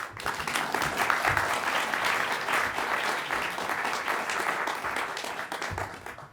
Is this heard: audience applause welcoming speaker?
yes